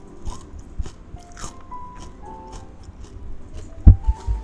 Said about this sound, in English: You guys hear how crunchy it is?